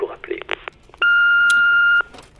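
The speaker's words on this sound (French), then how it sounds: "laisser un message ou une recette après le bip sonore" Answering machine beep: a single steady electronic tone lasting about one second, loud and clean, after a brief stretch of speech-like sounds.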